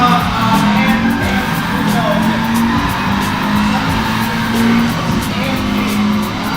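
Tires squeal and skid loudly on a Mercedes in a racing video game, with a continuous engine drone and repeated screeching slides throughout.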